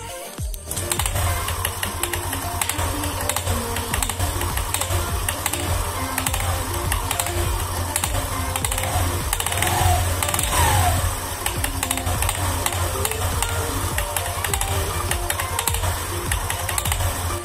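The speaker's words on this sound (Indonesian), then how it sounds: "kalau slidernya itu udah oplak ataupun pulinya udah goplak, itu bunyinya bakal seperti ini" Worn CVT slider and pulley rattle on a Honda Vario 125 scooter, a dense, fast, continuous clattering tick over a steady engine drone, loud and close throughout.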